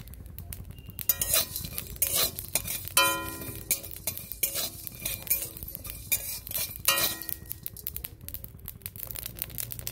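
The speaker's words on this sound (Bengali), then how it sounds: "দেখো, চটপট করে ভাজছে" Food crackles and fries in a hot kadai during Bengali home cooking, with utensil clinks and stirring scrapes. The sizzle runs steadily throughout and sits close and fairly loud, broken by sharp metallic taps.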